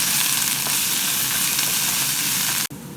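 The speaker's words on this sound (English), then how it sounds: "So just frying this up." Steady, loud sizzling of green chili frying with onion in a hot pan, a continuous crackling hiss that cuts off abruptly near the end.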